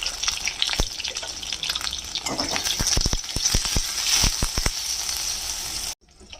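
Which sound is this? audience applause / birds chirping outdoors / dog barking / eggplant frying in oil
eggplant frying in oil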